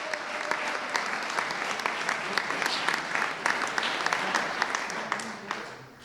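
A crowd applauds at a ceremony for the FC Schëffleng 95 football club, with sustained, moderately distant clapping and scattered sharper claps that fade slightly toward the end.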